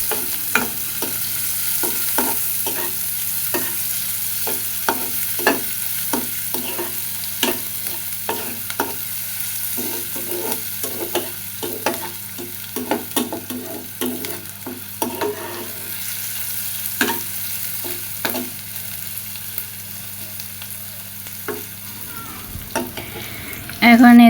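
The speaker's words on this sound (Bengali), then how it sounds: "এখন কড়াই বসাই দিছি, কড়াইয়ের তেল গরম হয়ে গেছে। দিয়ে দিলাম পেঁয়াজ," Onion and green chilli fry in hot oil in a wok, giving a steady sizzle broken by frequent sharp scraping taps of a spatula as they are stirred, close and fairly loud with no talking.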